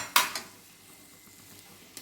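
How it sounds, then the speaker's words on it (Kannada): A utensil clinks against a pan while cooked rice is stirred into a ridge gourd vegetable mixture in a home kitchen, with a sharp scrape near the start, a softer one after it, quiet shuffling, and one more tap at the end. "ಈಗ ಇದಕ್ಕೆ ಅನ್ನ ಬೆರೆಸ್ತಾ ಇದ್ದೀನಿ."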